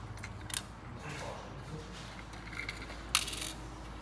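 Small metal screws from an electric motor are handled and dropped, giving faint clinks and a couple of brief sharp metallic ticks against a quiet room background.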